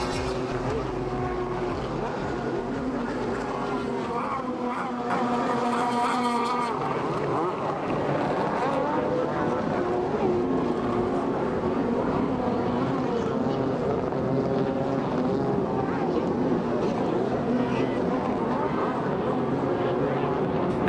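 Jet skis race on water during a Euro Jetski Tour event at Mirandela, their engines giving a loud, continuous high-revving drone that rises and shifts in pitch as the craft pass, with a commentator talking over the roar.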